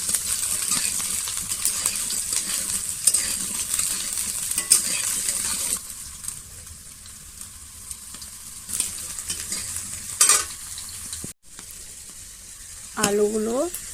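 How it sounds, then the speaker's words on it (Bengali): Potatoes sauté in a pan for a banana blossom dish, giving a steady close sizzle with frying crackle throughout and occasional utensil clinks near the end. "এইদিকে দেখুন আলুগুলো কষা হচ্ছে"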